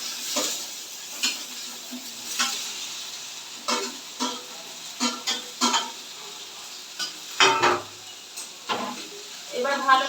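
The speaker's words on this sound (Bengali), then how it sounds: "এবার ভালো করে একটু নাড়তে থাকবো আর একটু ভাজা ভাজা মতো করে নেবো।" Chunks of young jackfruit and potato stir-fry in a pan, a low sizzle under repeated scraping strokes of a spatula and occasional clanks of metal, close and fairly loud.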